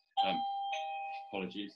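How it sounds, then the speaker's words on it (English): A doorbell chimes a clear two-tone ding-dong, indoors and close, with a sustained ringing tone, and someone speaks briefly over the start and end. "That's my doorbell."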